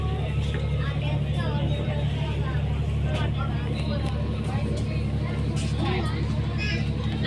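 A passenger launch travelling from Patuakhali gives a steady, loud engine drone with a continuous low rumble and water wash, while people talk over it throughout.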